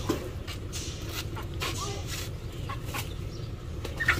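Chickens cluck softly amid a steady low rumble of outdoor background noise on a Hmong morning market trip to buy vegetables and a chicken, with a few faint scattered clucks and shuffling but no clear talk.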